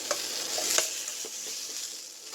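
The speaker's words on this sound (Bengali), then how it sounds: "দেখো আলু ভাজা করছি ইন্ডাকশানেই" Potatoes fry in a pan on an induction cooker, a close, steady sizzle broken by several scraping stirs of a spatula.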